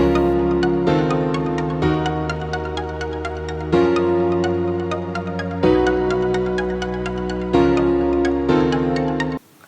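A layered progressive house passage with steady bright synth notes and a sustained chord bed that shifts every couple of seconds, playing alone and fairly loud.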